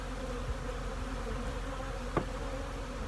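Honey bees buzz continuously in a heavy robbing frenzy around hives, a dense steady drone with a brief knock partway through.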